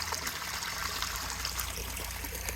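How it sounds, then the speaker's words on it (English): Steady trickling and splashing water running out of a pond filter (CPA 30000 bio press filter) and waterfall, continuous and fairly loud, with no pauses or voices. "the water will run back out of your waterfall"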